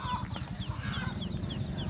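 Free-range hill chickens cluck at a bustling fair market in Quỳnh Nhai, Sơn La, with quick repeated clucks close by over dense low market rumble.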